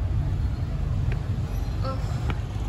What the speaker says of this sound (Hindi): अब देखो यहाँ से ट्रैफिक ही ट्रैफिक सुनाई दे रहा है मुझे